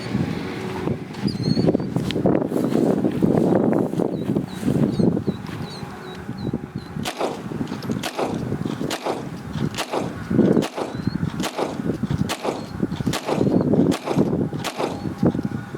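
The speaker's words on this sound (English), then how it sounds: "So one at a time, I guess we'll go ahead and do the Glock. All I'm doing is just a quick shake." A dirt-covered Glock Gen 5 pistol is given a quick shake outdoors, producing a series of sharp rattling knocks in a fairly regular rhythm over steady wind noise.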